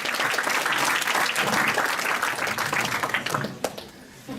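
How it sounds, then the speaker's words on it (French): Audience applause at an injury-prevention conference, many hands clapping steadily in a hall, then thinning out into a few sharp isolated claps near the close. "Mais merci beaucoup, vous applaudir."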